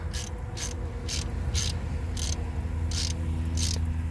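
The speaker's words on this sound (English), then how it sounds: "Let's get the bolts tightened up." A ratchet tightens the 10mm alternator bolts on a 2010 Ford Expedition XLT with the 5.4 3V engine, giving a series of evenly spaced clicking bursts, about seven of them, close up over a low steady hum.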